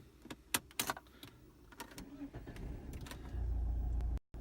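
A 2006 Saab 9-3 being switched on from inside the cabin: clicks and thumps, a rising whir as it powers up, then a steady low engine rumble.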